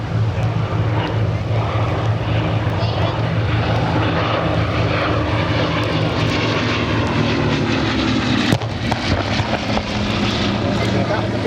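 Bristol Blenheim bomber engines roaring through an attack run at the Biggin Hill Festival of Flight, a loud continuous propeller drone lasting throughout, swelling slightly with a sharp crack near the end, voices faintly mixed in.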